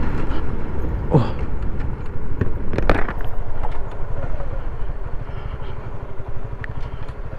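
A borrowed motorcycle rides along with a steady engine drone and road rumble, with brief clattering bursts and a faint voice now and then.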